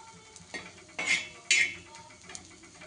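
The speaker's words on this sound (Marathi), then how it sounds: "असं थोडं लालसर भाजून घ्यायचं." Spices dry-roasting in a pan until reddish, with several sharp metallic scrapes and clinks of a spatula against the pan over a faint crackle, close and moderately loud.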